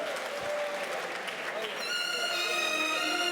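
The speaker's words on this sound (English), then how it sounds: "Give them a round of applause and thank you." An audience at a British Bangladeshi community awards programme applauds the event's sponsors with steady clapping under a speaking voice, followed by sustained musical tones.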